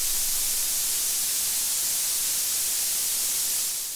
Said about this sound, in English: White noise, nothing special about it, but very usable